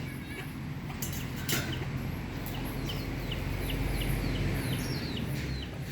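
Stray chickens at an animal shelter cluck in short, repeated calls over a steady outdoor background hum, with faint voices here and there.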